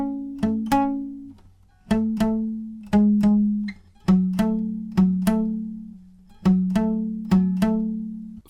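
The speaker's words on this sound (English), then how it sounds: "And in total, the verse riff will sound like this." Palm-muted acoustic guitar playing the verse riff of a song, short chugging chord strikes in a repeating rhythmic pattern, close and clear with no voice.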